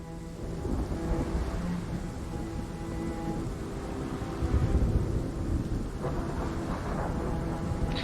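A thunderstorm in the game Rime: steady rain hisses on surfaces while deep rumbles of thunder roll underneath, swelling into a louder crack midway, with no voices.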